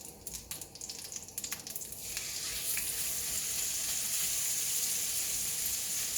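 Beef sizzling as it fries in a pan for a pepper cheese steak, a steady close hiss that swells and fills in after a few scattered crackles, with no talking.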